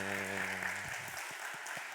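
Steady applause fills a church during Sunday worship, broad and even clapping from the congregation, with a sustained tone dying away early and a few louder claps near the end.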